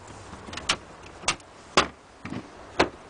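Rear cargo organizer in a 2005 Saturn VUE being folded down, giving a handful of sharp plastic clicks and knocks at uneven intervals, close and fairly quiet, with no talking.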